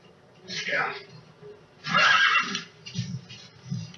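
Horse in Metal Gear Solid V giving two loud, close whinnies with a softer snort after, over faint hoof and ambient game sounds.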